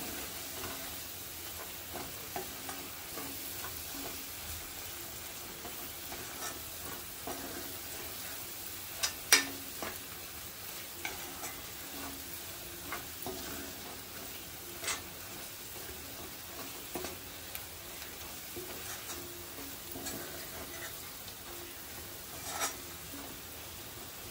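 Ground masala paste for an aubergine and potato gravy being sautéed in a pan, a faint steady sizzle with sparse light ticks and occasional scraping stirs over a long stretch; no one speaks.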